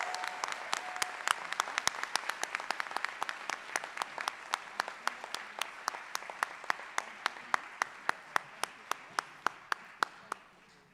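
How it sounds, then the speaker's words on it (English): An audience at an awards event applauds students, mentors, donors and partners. The crowd's clapping is soft and even, with one sharp, regular clapper standing out near by, and the whole thing slowly thins toward the end. "One more time, a round of applause to the students,"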